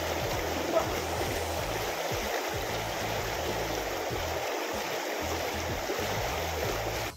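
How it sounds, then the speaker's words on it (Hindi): Fast-flowing river rushing through jungle near Rishikesh, a steady, loud broadband roar of churning water that holds unbroken for the whole stretch, with low thumps and rumbles underneath. "नदी के बहाव काफी तेज है वैसे यहाँ पर"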